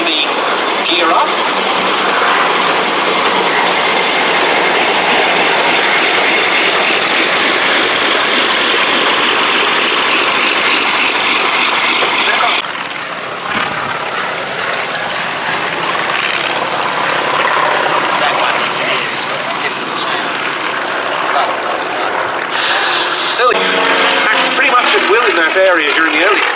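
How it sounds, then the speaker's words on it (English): A Consolidated PBY Catalina flying boat passes at the Duxford Battle of Britain air show with its gear retracting, its piston engines making a loud, steady, close propeller drone that shifts in tone midway, with voices faintly underneath. "Here's the Catalina, actually bringing the gear up."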